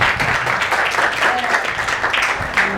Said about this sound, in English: A big round of applause for Jasmine.